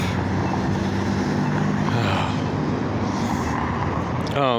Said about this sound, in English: A lot of traffic to run in front of.